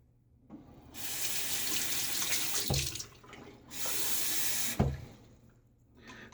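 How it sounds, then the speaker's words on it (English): Tap water runs into a shaving bowl in two bursts of steady flow with a brief clunk between them, close and fairly quiet, with no talking. "Definitely need to add more water to my bowl."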